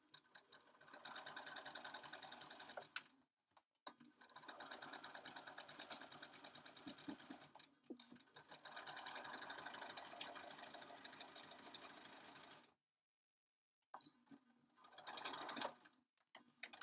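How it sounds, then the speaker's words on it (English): A sewing machine stitches a seam on a fabric bean bag phone stand. It runs in fast rhythmic bursts of several seconds each, separated by short pauses, and sounds close and fairly quiet. "I'm going to sew all the way along there."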